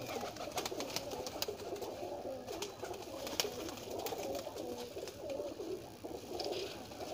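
Teddy pigeons coo softly in a loft, low repeated throaty calls rising and falling over several seconds, with scattered wing flutters and light rustling, fairly quiet and with no talk.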